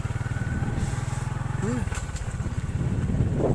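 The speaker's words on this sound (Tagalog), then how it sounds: "Talaga namang hirap na hirap yung motor namin" Motorcycle engine straining through deep mud, a loud pulsing low chug that labors and revs unevenly, close by, with a voice speaking briefly over it.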